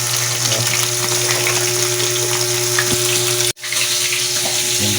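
Boneless bangus (milkfish) frying in a pan, a steady dense sizzle with a constant low hum underneath and a brief dropout near the end, no talking.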